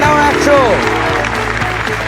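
Studio audience applause after a correct answer on a Bengali quiz show, a short burst of clapping and cheers mixed with a host's voice and musical stingers.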